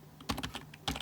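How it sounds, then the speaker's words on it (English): Quick typing of a web address on a computer keyboard, a close, crisp cluster of key clicks in an uneven rhythm, pausing briefly before a final flurry of presses. "type in this address"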